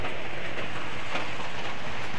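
Steady rain pours down during a heavy downpour, a dense, even hiss that stays constant and fairly loud across the whole moment with no voices.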